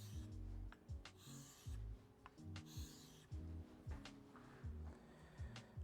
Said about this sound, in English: This is my 1000 grit stone, and I'm just going to take a couple of passes at not 90 degrees, just about 80